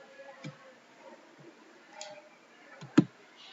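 Faint computer mouse clicks sound in a quiet room, a few soft scattered ticks followed by a sharper, louder click near the end, with no talking.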